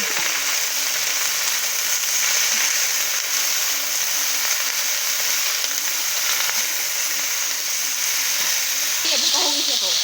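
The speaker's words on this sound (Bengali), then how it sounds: "এখন কপিগুলো একটু হালকা ভেজে নেব।" Cauliflower florets seasoned with salt and turmeric frying lightly in a pan, giving a constant, even sizzle and hiss that runs throughout while a person talks over it.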